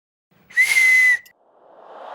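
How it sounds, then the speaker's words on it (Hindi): A watchman's whistle blown once inside a police station, a single loud, shrill, steady blast lasting under a second that cuts off cleanly, followed by quiet rustling. "पुलिस स्टेशन में हिम्मत कैसे हुई थारी सीटी मारने की?"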